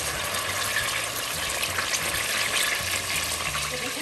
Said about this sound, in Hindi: इसके अंदर जो हमारे पास मटन है हम उसको फ्राई करते हैं